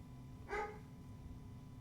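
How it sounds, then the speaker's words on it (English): One short, sharp bark from a dog rises briefly out of a steady low hum, moderately loud and slightly distant, with no voices during it. "I love how the entire time I was talking, the dog was barking."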